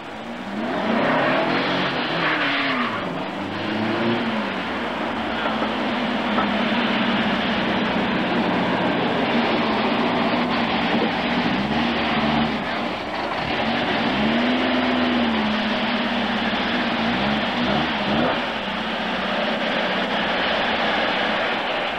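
A Volkswagen car engine runs steadily nearby with a broad, continuous drone that swells now and then, as if revved lightly, and no voices on top.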